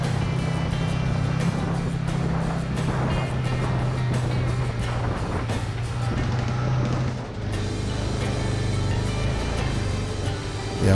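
Can-Am Maverick Trail side-by-side cruising on a main road near Moab, Utah, a steady low engine drone with rushing wind noise throughout, engine note shifting slightly partway through, close and continuous.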